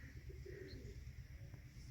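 Soft pigeon cooing at a rooftop loft under stormy, windy weather, a steady low murmur running through the whole stretch with no talk.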